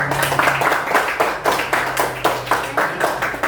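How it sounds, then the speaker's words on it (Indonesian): A class claps together in a room, a brisk run of close, even hand claps that keeps a steady rhythm for a few seconds. "aplaus dulu untuk semuanya"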